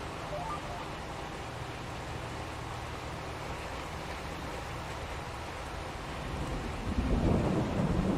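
Rain and thunder in a farming video game: a steady wash of rainfall, with a deep rumble of thunder swelling near the end.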